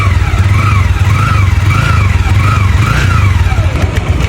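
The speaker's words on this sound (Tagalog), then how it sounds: "Tahimik pa yung makina mga kamatodik ko." A motorcycle engine runs at a steady idle, close and loud, with a rhythmic chugging pulse and a faint whine rising and falling.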